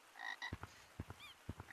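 A frog croaking in the Growtopia video game: a short bright chirpy call followed by three deep, evenly spaced croaks, close and clear with nothing else heard.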